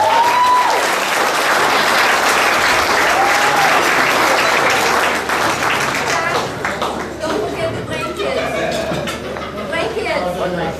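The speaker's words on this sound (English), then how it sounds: "Would you all please give them a big round of applause?" Wedding guests applaud a newly married couple at an evening reception, a dense, steady clatter of many hands that carries on for several seconds and gradually thins, with voices and cheers mixed into it.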